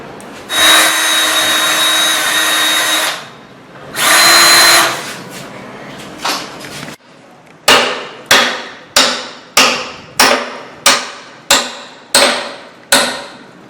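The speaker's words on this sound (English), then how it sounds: "drill the hole in the end plate slightly larger" A power drill whirs in two long bursts, then short trigger pulls and a run of about ten sharp, evenly spaced impacts, loud and close, while enlarging a hole in a metal end plate.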